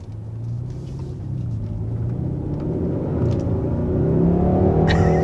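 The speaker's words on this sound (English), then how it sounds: "I'm having fun right now as we're driving on this country road" A 2021 Hyundai Sonata N-Line with a 290 hp engine driving along a country road, its exhaust a steady, loud rumble that climbs gradually in pitch and volume as it accelerates, with no talking.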